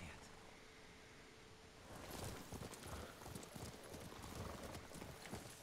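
Horse hooves clip-clop at a steady walking rhythm in the video game Ghost of Tsushima, growing louder after a quieter ambient opening, heard up close alongside rustling and game ambience.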